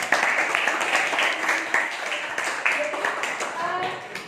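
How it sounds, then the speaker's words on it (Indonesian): A small group claps together during a classroom-style session, a dense crackling patter that holds steady for several seconds with voices chattering over it near the end. "Tepuk tangan dong buat saya."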